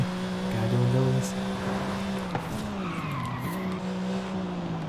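A Porsche 911 GT3 drifts in Forza Horizon 5, its engine droning and shifting pitch while tyres skid and squeal in long sliding bursts, close and steady throughout.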